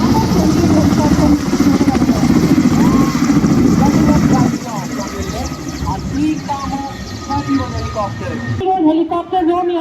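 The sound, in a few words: Kamov 28 helicopter flying past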